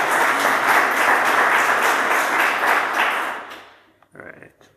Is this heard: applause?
yes